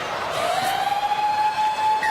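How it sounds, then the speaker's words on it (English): At a 2014 Four Nations rugby league match between Samoa and Australia, the half-time siren sounds as a rising, steady wail that carries over crowd noise from the stadium. "There's the half-time siren."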